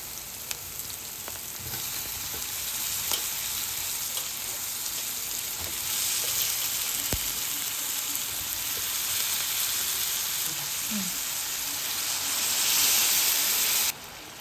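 Cut brinjal (eggplant) fries in a pan for a traditional home-cooked dish, giving a steady, close sizzle and hiss that runs without a break, with a few faint clinks and stirring sounds and no talk.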